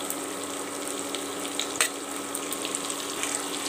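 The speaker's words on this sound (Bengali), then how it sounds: "এবারে পেঁয়াজটাকে লাল করে ভেজে নেব" Sliced onions and long-cut green chillies frying in spice paste for a pepper chicken dish, giving a steady, fairly soft sizzle with faint crackles and one brief clatter near the middle, no voices.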